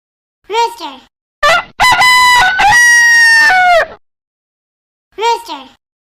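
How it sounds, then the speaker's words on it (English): A rooster crows loudly at close range: a short call, then a long, drawn-out cock-a-doodle-doo, and one more short call after a pause. "Rooster."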